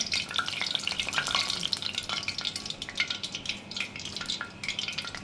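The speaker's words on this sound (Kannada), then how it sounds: "ಬಿಸಿ ಎಣ್ಣೆಗೆ ಹಾಕಿ ತೆಗಿಬೇಕಾಗತ್ತೆ" Onion pakoda frying in hot oil gives a steady, crackling sizzle with scattered pops, moderately quiet and continuous, with no voices.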